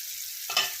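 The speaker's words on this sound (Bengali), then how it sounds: "সামান্য নেড়ে নিয়ে" Ingredients frying in a pan for a green-mango lentil dal get a quick stir, a soft steady sizzle with one brief scraping swell partway through.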